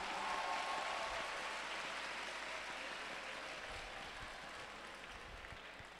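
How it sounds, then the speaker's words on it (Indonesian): Steady applause from a madrasa class, a sustained wash of many hands clapping at moderate distance for several seconds without pause. "Oke, tepuk tangan."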